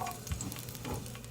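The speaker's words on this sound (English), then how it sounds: "The garlic is sizzling." Thinly sliced garlic and hot pepper flakes sizzle in hot oil, a steady crackling hiss with small pops, close by and continuous.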